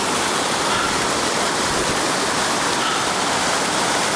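Rushing water of the North Fork of the San Joaquin River roars steadily and loudly, a constant broadband wash with no pauses or voices.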